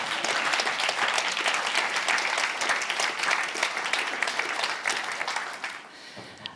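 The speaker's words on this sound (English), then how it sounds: "I think it's a great applause because it's a great day for us." Dense, sustained audience applause fills a conference hall at an opening session, loud and steady for several seconds before tapering off near the end.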